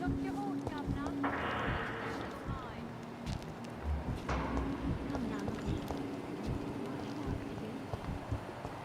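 Horse hooves clip-clopping in the video game Vampyr, a steady run of sharp knocks under a voice, with wind-like noise behind.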